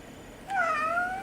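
A cat gives one clear, drawn-out meow partway through, close and fairly loud, while its ear is being cleaned in a quiet room.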